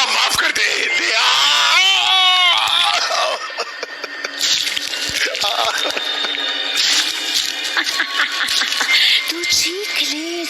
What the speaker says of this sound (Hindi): तू चीख ले जितना चीखना है, चीख।